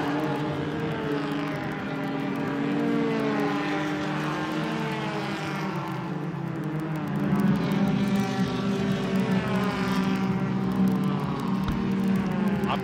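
Ford Laser and Mazda race cars up to 1500cc on a circuit pass by with loud, shifting engine drone that rises and falls from varying distances, under continuous commentary.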